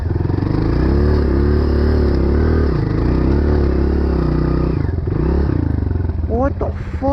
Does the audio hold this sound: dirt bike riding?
yes